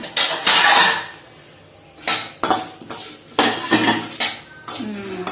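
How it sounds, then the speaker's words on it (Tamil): Roasted flattened rice (aval) tipped from a pan onto a plate, heard as a few separate bursts of scraping and clattering metal against the plate, close and fairly loud, with quiet gaps between them. "இதை நம்ம ஒரு பிளேட்ல போட்டு ஆற வச்சுக்கலாம்"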